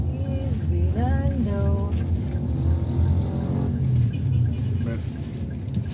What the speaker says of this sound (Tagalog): So this is the traffic in Manila.